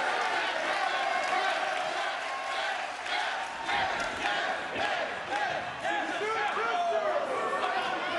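A large, rowdy crowd at an NXT 2.0 wrestling show roars and chants continuously, a dense wall of voices with swelling yells and some cheering throughout.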